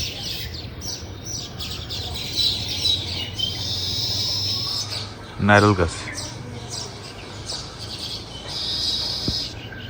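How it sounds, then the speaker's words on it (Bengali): Many baya weaver birds chatter and chirp in a busy chorus around their nests, while a person speaks close by and a brief louder call cuts in midway. "বাবুই পাখি শব্দ করতেছে"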